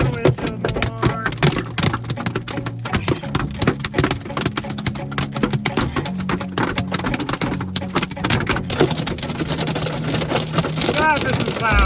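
Hail pounds a car windshield during a severe storm, a dense loud rattle of impacts on glass and metal, continuous throughout with a voice speaking under it.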